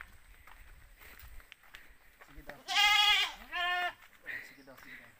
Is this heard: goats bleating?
yes